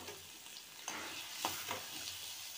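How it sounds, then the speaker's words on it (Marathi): Chopped onion sizzling in hot oil in a pan, a soft steady frying hiss with a few brief stirring scrapes, close and fairly quiet, no voices. "तेल गरम झालं की आपल्याला कांदा टाकून घ्यायचा आहे"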